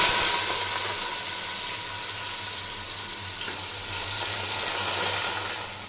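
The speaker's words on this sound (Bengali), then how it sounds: "তেল গরম হয়ে গেছে, এলাচ দারচিনিও একটু ভাজা হয়েছে, এখন চালটা দিয়ে দিই।" Rice fries in hot oil with cardamom and cinnamon for chicken roast pulao, a loud, continuous sizzle and hiss that holds steady for the whole stretch with no voices.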